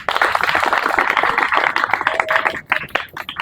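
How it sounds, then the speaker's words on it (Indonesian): Applause from an audience at an Indonesian Islamic podcast gathering, dense clapping from many hands close by, holding steady and then thinning into scattered claps toward the end. "tepuk tangan sekali lagi"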